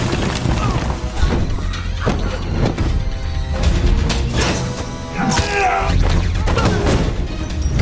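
Gunfire and a blast as a lone fighter, shot at, sets off an explosion using an oxygen tank and chemicals in a Jason Statham action film; dense, loud crashing impacts and bangs layered over a busy score, with a few voice fragments.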